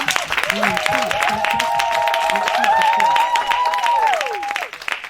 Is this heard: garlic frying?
no